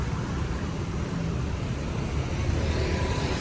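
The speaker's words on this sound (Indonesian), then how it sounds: "ini bis yang kita naiki dengan Travego Edition, bus baru 2 minggu jalan ya" Steady broadband road rumble and engine drone from inside a new Travego Edition coach bus in motion, continuous and fairly loud throughout with no talk.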